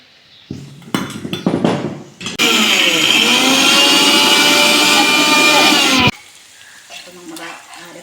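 A mixer grinder whirs loudly for a few seconds, grinding spice paste in oil. A steady high-pitched motor whine is heard, with clinks of the jar and utensils before and after.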